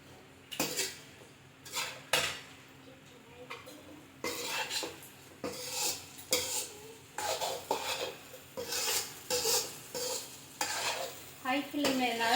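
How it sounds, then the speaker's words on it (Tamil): Chicken fried rice stirred hard with soy sauce in a pan over high flame, roadside style, with repeated loud metal scrapes and clanks of a ladle against the pan over a steady sizzle, close and without talk. "நெக்ஸ்ட் சோயா சாஸ் வந்து அடுப்பை ஹை ஃப்ளேமில் வச்சுட்டு நல்லா கிண்டி விடுங்க ஃப்ரெண்ட்ஸ்"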